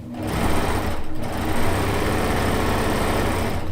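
A sewing machine runs steadily, stitching the final stretch of a quilt-top seam, its fast motor whir and needle chatter continuous and close, with a brief slowdown near the start before it resumes at full speed.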